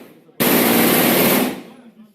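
A burst of automatic gunfire at a shooting range rips out as one loud, dense, continuous stream lasting about a second, then cuts off into fading echo and faint background noise.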